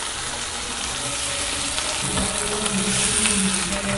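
Water pours into a hot pan of frying curry leaves, a rushing splash over sizzling that thickens in the second half.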